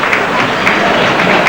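An audience at a county sports awards ceremony applauds with loud, even, sustained clapping that stays dense and unbroken, with no speech on top.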